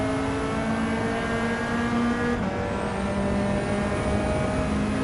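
Nissan S13 Silvia engine in Gran Turismo 7 holding a steady, sustained drone with a constant pitch, loud and continuous throughout, with no voices over it.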